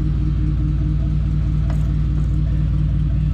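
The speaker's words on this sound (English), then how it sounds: "Got the forklift sitting over there warming up." A forklift engine idles while warming up, a loud, constant low rumble with a steady throb, close by and heard alone apart from a faint brief click.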